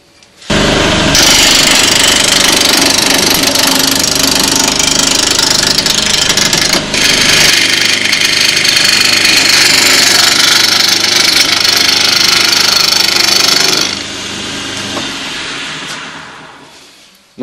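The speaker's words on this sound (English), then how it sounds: "I'm going to start turning the bottom, moving the chisel coming around this way to shape the bottom of the bowl" A wood lathe spins a bowl blank while a sharp chisel cuts and shapes it, a loud, steady, rough grinding roar that runs for most of the time before dropping to a quieter hum.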